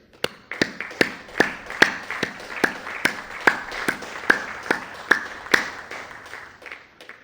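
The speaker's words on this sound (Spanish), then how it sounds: "Un aplauso a nuestros paisanos migrantes." Slow, steady rhythmic clapping at a Mexican presidential event in Nayarit, roughly a dozen sharp, evenly spaced beats over a soft crowd background, with no talk over it.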